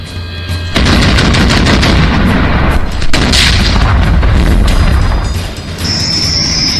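Loud, sustained gunfire and explosive booms from a Ukrainian attack on a Russian military convoy crossing a bridge, with dense rapid shots and heavy blasts filling the whole stretch, close and continuous.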